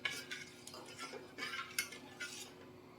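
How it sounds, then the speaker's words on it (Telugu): A utensil stirs coconut milk and sugar in a pan over a low flame, producing faint, repeated scraping and clinking strokes against the metal in an uneven rhythm, close by and quiet with no talking. "ఇప్పుడు వరకు ఇలా లో ఫ్లేమ్లో పెట్టుకొని స్టవ్ ఇలా తిప్పుతూ ఉండాలి"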